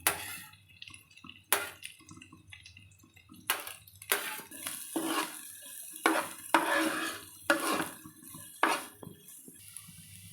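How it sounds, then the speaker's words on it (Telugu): Green chilli and onion stir-fry for a baby corn snack, heard as repeated metallic scrapes and clinks of a spatula against the pan over a light sizzle, close and rhythmic. "ఉల్లిపాయ ముక్కలు కూడా వేసుకుని మొత్తం బాగా ఫ్రై చేసుకుందాం."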